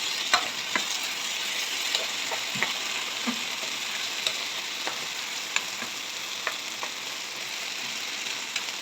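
Kerala-style plantain stir-fry sizzles steadily in a pan while a spoon stirs it, scraping and clinking at irregular intervals over the constant frying hiss, with no talking.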